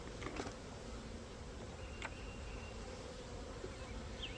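Honey bees from two combined packages hum steadily inside an insulated hive, a low continuous buzz close by with a few louder passes of individual bees.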